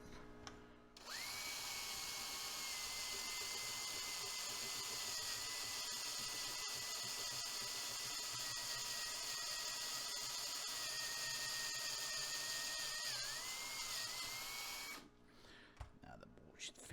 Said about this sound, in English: Let me drill this hole out a little bit.